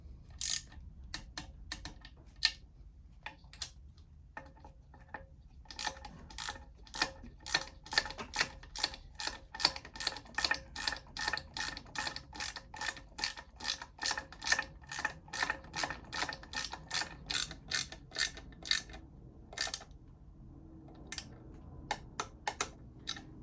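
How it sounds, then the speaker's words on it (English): A ratchet wrench clicks steadily while tightening engine case cover bolts on a Yamaha Tracer 7, a long run of sharp, close mechanical ticks in quick rhythm with short pauses and no talk. "now grab your torque wrench at 10 Newton meters"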